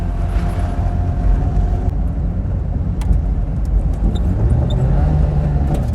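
A 1974 Daihatsu Fellow Max two-stroke kei car drives along with its small engine droning loudly and steadily, the pitch dipping and climbing as it is rev-matched through a gear change.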